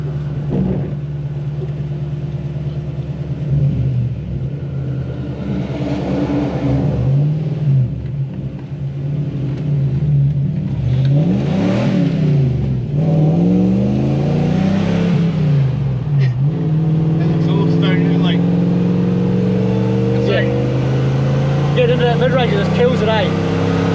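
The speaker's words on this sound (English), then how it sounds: "its idling, it's doing most just like it should" A Toyota Hiace van with a 1UZ V8 engine idles steadily and slightly rich with a low rumble throughout, while people talk over it.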